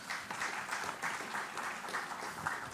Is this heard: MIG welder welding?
no